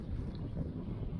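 Headwind buffets a cyclist's microphone, a dense low rumbling roar that fills the whole moment with steady, close, unbroken wind noise and no voices.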